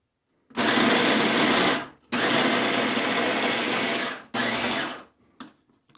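A food processor whirs loudly as it spins flour and butter for Danish pastry dough, running in three pulses of roughly one to two seconds each with brief gaps between, then a short final blip.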